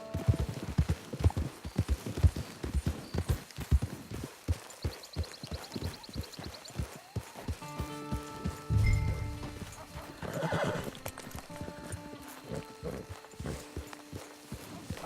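Hooves clip-clop in quick galloping rhythm in the Western video game Red Dead Online, loud and close, then a horse neighs and whinnies over the slowing footfalls amid soft game sounds.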